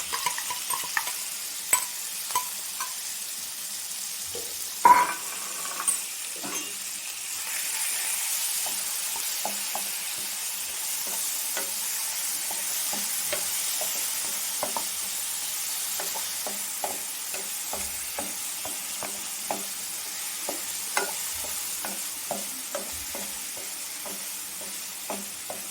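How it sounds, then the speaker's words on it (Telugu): Marinated paneer pieces fry in a pan with a continuous soft sizzle, while a spatula scrapes and taps at irregular intervals, close up and alone without talk. "నెక్స్ట్ మ్యాగ్నేట్ చేసి పెట్టుకున్న పన్నీర్ ముక్కలను వేసి మనం వేయించుకోవాలి."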